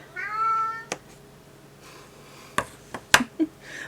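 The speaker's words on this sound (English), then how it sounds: "That's my cat." A pet cat lets out a drawn-out meow close by, followed by a few sharp clicks and small knocks in an otherwise quiet room.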